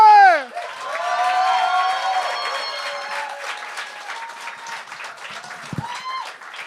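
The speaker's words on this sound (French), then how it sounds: "accueillez le premier avec un tonnerre d'applaudissements, Nicolas Bégin!" Game show studio audience applauds and cheers as a contestant comes on stage, dense clapping with whoops starting after a brief announcer voice and gradually easing off.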